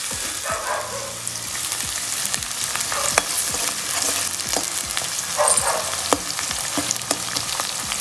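Onions frying in a pan for a dry eel fish curry give a steady, loud sizzle with scattered crackles and stirring scrapes throughout.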